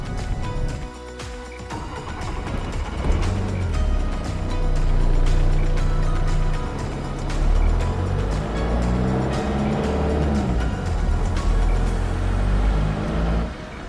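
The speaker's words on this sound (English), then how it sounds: "I'll downshift so I'll burn more gas" A car engine revs up as the driver downshifts on a drive, rising and falling with a steady loud drone and shifting harmonic tones over about fourteen seconds.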